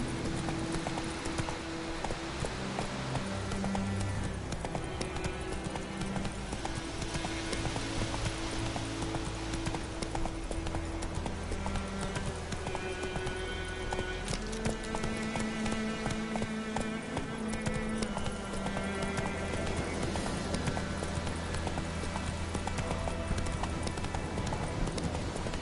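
Horse hooves clip-clop in a steady galloping rhythm in The Witcher 3, layered under a continuous game music score with no talk.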